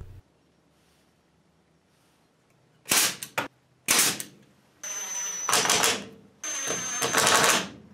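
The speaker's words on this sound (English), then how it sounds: "I'm using brad nails to hold the lip in place" Pneumatic brad nailer driving brads into the lip of a wooden bathroom shelf: sharp close pops, two around three and four seconds, followed by hissing bursts of air near five and seven seconds, with no talk.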